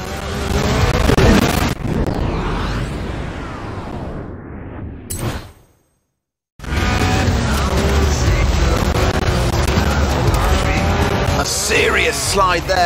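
A 2009 Chevrolet Corvette ZR1 slides sideways in Forza Horizon 4, its engine roaring loud and close with rising revs and tire noise, cut by a brief silent gap before the roar resumes, with a voice talking over it.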